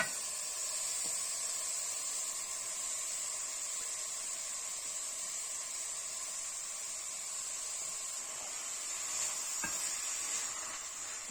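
Grated mooli radish frying in masala and oil, heard as a steady, fairly quiet sizzle and hiss that carries on without a break, with a few faint clicks and no talking.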